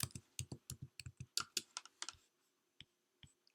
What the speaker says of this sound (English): Let me just type the name of the object we created,